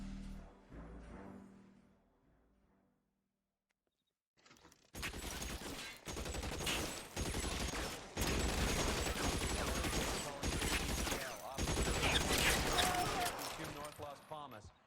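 Gunshots in L.A. Noire, a 1940s Los Angeles police game, burst in after a quiet stretch with sharp repeated cracks and loud sustained firing to the end, mixed with talk.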